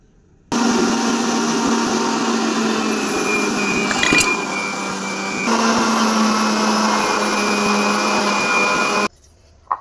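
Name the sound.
mixer grinder blending curd, sugar and water for lassi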